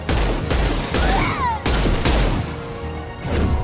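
Rapid bursts of gunfire in the video game Mass Effect 2, loud and close, in repeated volleys with impact crashes, a whining energy sweep between them and a brief shout.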